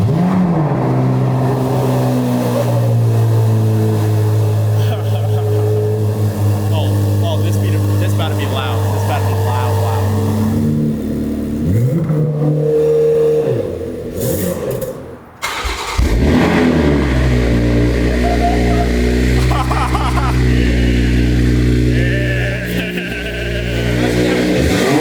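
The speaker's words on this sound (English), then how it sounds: "I'm trying to hear that Z06 though." A Z06 sports car engine revs loudly nearby, with deep rumbling throttle blips and surges that drop briefly before roaring back. Voices talk over the engine noise.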